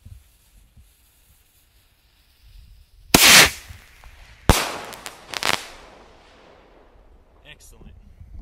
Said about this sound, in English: And we got one more surge missile.